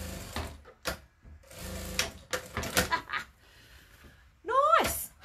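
A sewing machine stitches a precut tote bag kit in quick mechanical bursts, with pauses between runs and a whirring rise near the end.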